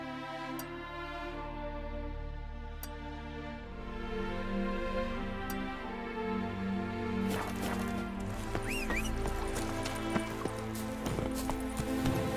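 A horse's hooves clip-clop at a steady pace in Witcher 3, layered over game music, with the gait and background sounds growing busier partway through.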